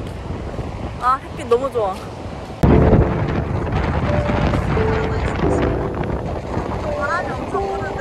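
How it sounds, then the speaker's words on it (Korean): Strong wind buffets the microphone on a beach, a loud, continuous roar that swells after a few seconds, with someone talking briefly over it. "바람이 엄청 부는데"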